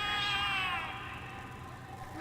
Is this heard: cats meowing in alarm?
yes